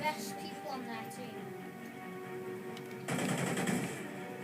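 Rapid gunfire in the video game Call of Duty Ghosts, a burst of shots crackling under a player's talk near the start, then a louder dense spray of fire toward the end.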